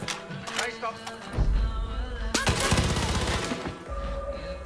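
Gunfire in the video game Far Cry 5, with sharp shots followed by a sustained rapid burst of automatic fire mixed with game sounds and a voice talking.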